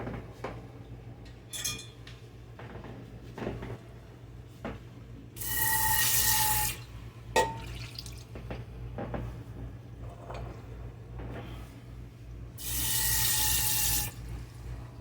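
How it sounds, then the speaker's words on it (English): Water runs from a kitchen tap into a pan in two steady bursts of several seconds each, set among clinks of cutlery, pots and cupboard knocks in a quiet room. "I put a little bit of water in the pan"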